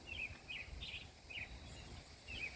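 Small birds perched on a house chirp in short, bright bursts, about six separate calls spaced irregularly over faint background noise, fairly distant and soft.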